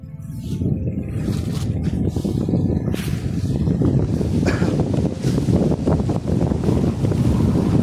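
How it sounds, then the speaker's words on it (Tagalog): Strong wind buffets the microphone in a constant loud rumble, with faint water or surf noise underneath and no speech. "Grabe ang lakas ng hangin."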